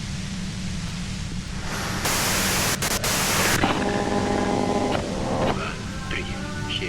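Harsh white noise static plays in a video game as a broad hiss with a louder burst partway through, while a voice talks underneath.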